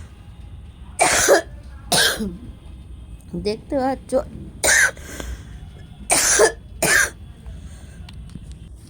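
A person with a cold coughs in several harsh, separate bursts spread across the stretch, with brief throat-clearing and a few spoken words in between.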